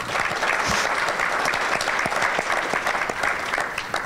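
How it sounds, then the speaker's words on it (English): Audience applause at an education summit hall, dense continuous clapping from a large crowd, steady and loud throughout with no talk over it. "we really owe ourselves a big round of applause for supporting ASU"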